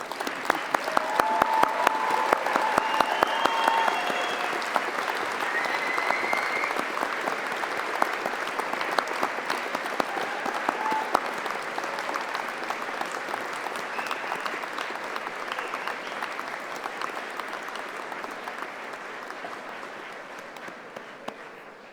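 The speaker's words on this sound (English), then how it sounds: "join me in showing your thanks with a huge round of applause" A graduation ceremony audience at a faculty of management gives sustained loud applause with scattered cheering, a dense wash of clapping that holds for over twenty seconds and gradually thins toward the end.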